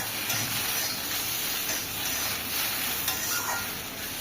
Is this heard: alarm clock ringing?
no